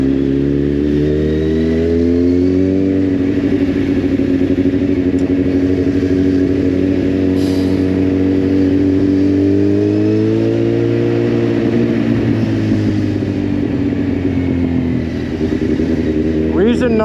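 A Kawasaki Z800R motorcycle lane splitting through traffic hums with a steady, close engine drone that rises and falls gently in pitch. Loud and continuous, it ends with a brief sharper flutter.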